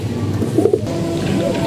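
Pigeons cooing in a loft among several cocks and a few hens, soft low throaty coos repeating close by, with a faint voice murmuring underneath.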